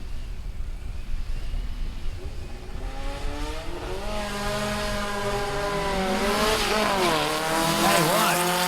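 VW Bug street car, a 2332 engine fed by 48 IDA Webers, launching at a drag strip, its exhaust climbing through rising harmonic revs with a gearshift dip near the end, loud over crowd noise and murmured voices.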